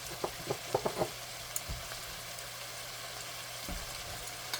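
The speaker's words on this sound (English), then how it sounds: "Let this saute for just a minute, and I'm going to go ahead and add in a little bit of salt and pepper." Vidalia onion sautéing in a pan, a quiet, steady sizzle with a few soft clicks and stirring taps near the start, no talking.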